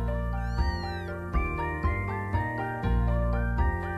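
A five-week-old kitten meows repeatedly and close, a run of about eight high, rising-and-falling cries in quick succession with no talking over them.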